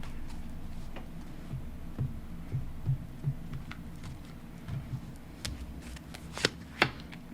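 Tarot cards are shuffled by hand in soft, irregular riffles and taps, close and fairly quiet over a low background hum, with no talking.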